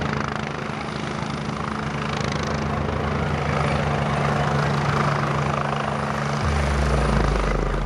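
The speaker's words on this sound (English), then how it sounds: "Probably the helicopter." A helicopter flies overhead at an evening community event, its steady rotor drone loud and continuous throughout, with a low engine rumble swelling near the end.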